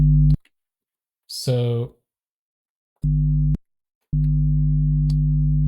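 A low test tone near 50 Hz plays through a slew distortion plugin in LMMS, sounding as a steady buzzing hum in separate bursts that switch cleanly on and off, with a brief spoken word between them.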